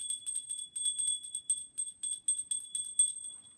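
A small bright bell rings for freedom during a winter solstice satsang, struck in a quick irregular series of clear high tinkling tones that ring alone against silence.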